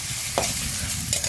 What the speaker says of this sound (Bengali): এটাকে এখন একদম ভেজে লাল লাল করে নেব।